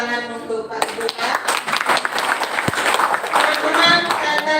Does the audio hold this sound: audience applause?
yes